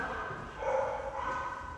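A dog barks and yips at an animal shelter, a muffled, somewhat distant run of barks under a steady noisy room background, with no talk.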